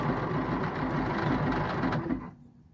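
A sewing machine stitches stretchy ribbing onto a garment neckline with a 1/4 inch seam, a steady close whirring hum running continuously before stopping abruptly near the end.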